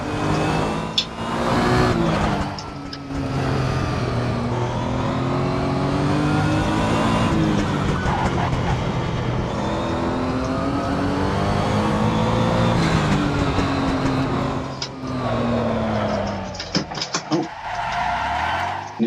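A race car in the Assetto Corsa driving game roars loudly and steadily through a bumpy corner, engine revving up and down with tyre squeal and skidding near the end as the car spins.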